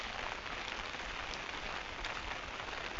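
Steady rain pouring down, a dense, even hiss of drops on surfaces that stays constant throughout, close and with no voices.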